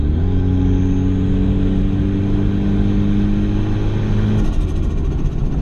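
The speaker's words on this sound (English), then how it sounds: "Let's see what this thing sounds like if I rip on it a little bit." A cheap turbocharged budget car engine is revved hard, a loud, close, sustained throaty drone with rising harmonics that drops off near the end, heard alone without talk.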